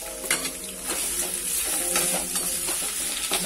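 Ginger pieces fry in hot coconut oil, a steady bright sizzle running throughout with soft scrapes of stirring in the pan, close and fairly loud.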